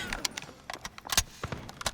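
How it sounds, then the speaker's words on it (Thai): Many people run in the Delta Force video game, a quick scatter of light footstep clicks and scuffs coming close, irregular and fairly faint. "เสียงคนวิ่งเยอะมากเลย"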